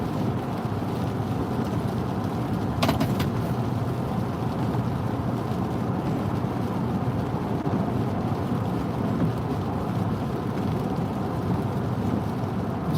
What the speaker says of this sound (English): Listen to the road and the rain.